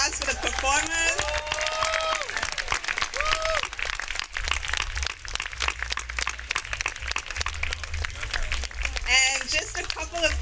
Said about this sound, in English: Please, let's give another round of applause for the performers.